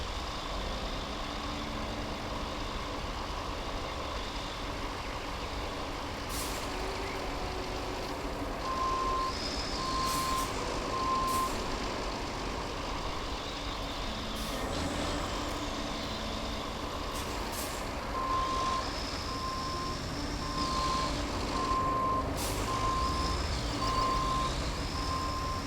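A truck in the RoadCraft video game reverses, its steady engine rumble running throughout while evenly spaced reversing beeps sound in two bursts, with occasional hiss from the air brakes.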